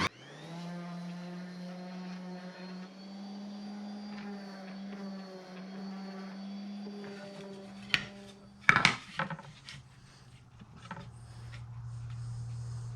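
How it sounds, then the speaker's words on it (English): A power sander hums steadily on a wooden pumpkin craft piece for about eight seconds, then stops, followed by a few sharp knocks and handling clatter. "I'm going to give it a quick sand."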